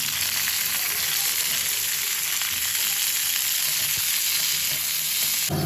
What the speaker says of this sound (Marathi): तेल टाकलेलं आहे आपण गवारी भाजून घेऊया